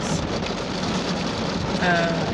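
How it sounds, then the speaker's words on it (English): Steady dense patter of heavy rain on a parked car, a constant broadband wash with no pauses, drumming on the roof nearby. "Rain got a little heavy. Y'all hear that, right? Okay. It's raining quite a bit."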